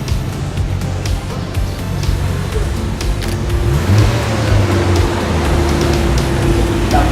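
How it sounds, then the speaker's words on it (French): A 2001 Porsche Boxster rally car, number 8, pulls away from the start of a Provence discovery rally, its engine rumbling steadily and building slightly, with a constant mid-volume drone and some surrounding ambient noise. "une belle Porsche Boxster, la numéro 8 de Monsieur Horn, Boxster de 2001, top départ"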